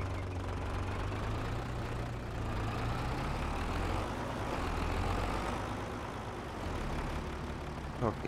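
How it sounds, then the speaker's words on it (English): A tractor engine in Farming Simulator 22 runs at a steady low idle, a continuous deep hum with no speech over it. "we'll get this tractor out of the way"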